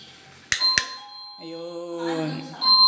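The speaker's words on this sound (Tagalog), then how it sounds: "Kakabit po ako ngayon ng doorbell." A wireless doorbell chime rings close and loud, with two sharp struck tones and then a sustained ringing melody with a final tone at the end. A voice is faintly present underneath.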